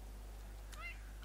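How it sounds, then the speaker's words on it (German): A single brief cat meow from The Sims 3, faint beneath a constant low hum, while people talk nearby. "guck mal an, die Katze wälzt sich da im Wasser"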